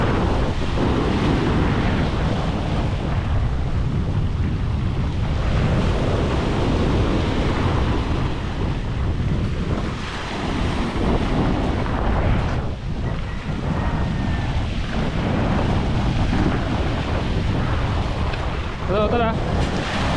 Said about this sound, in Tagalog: Takas ng alon.